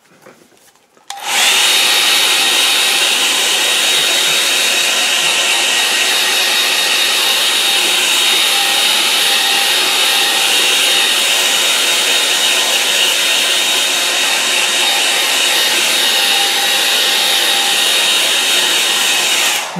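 A hair dryer blows on a watercolour painting of trees, starting abruptly and then running as a loud, steady, close roar for the rest of the time.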